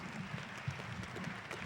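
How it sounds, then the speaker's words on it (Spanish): Applause from a theater audience at a Star Wars event, a steady, even wash of clapping from many hands at moderate distance with a brief swell near the middle, no voices. "Un aplauso."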